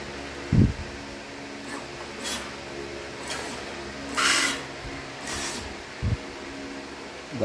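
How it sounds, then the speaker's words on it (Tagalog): Water sprayed from a hose onto an air conditioner condenser, heard as several separate hissing bursts over a steady fan-like hum, with a couple of low thumps in between. "Yan ang i-spray sa ating condenser"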